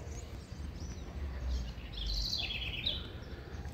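A small bird sings from a perch on a construction site some distance away, faint chirps and short tweeting phrases drifting over quiet outdoor ambience.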